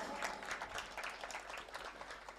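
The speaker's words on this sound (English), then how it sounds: "Another round of applause" An audience at a commemoration of the International Day against the use of Child Soldiers claps in a round of applause, a soft, distant patter of many hands that stays steady to the end.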